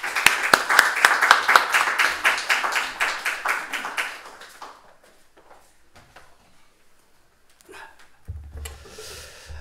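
A church congregation claps to welcome a missionary to the front, a dense burst of applause that fades out over a few seconds, followed by quiet room noise and a low thump.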